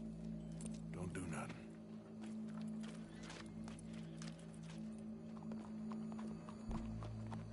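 Horse hooves clip-clop in Red Dead Redemption 2, an irregular run of hoof hits under a steady low drone and some background noise.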